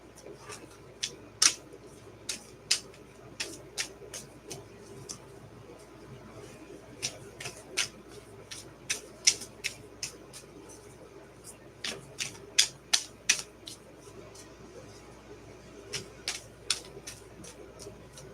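Tarot cards are shuffled in soft, irregular flurries of crisp riffling taps, close but quiet against a faint steady background hum.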